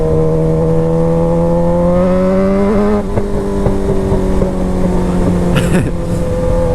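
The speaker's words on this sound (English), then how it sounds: "I know the backfires don't come across very well in video, but oh my God, they sound so cool." A motorcycle engine runs loud and close while being ridden, a steady droning roar with a slight pitch shift and a brief crackling burst near the end.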